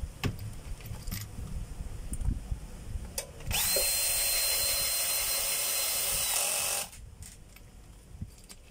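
A power screwdriver drives a screw into an electric motor's armature field coil, giving a steady, close whirring whine of about three seconds between quieter handling noises, with no talk.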